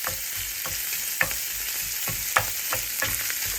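Crumbled sausage meat frying in a pan for a one-pan breakfast, a close steady sizzle broken by a few sharp scrapes and stirring knocks, with no talking.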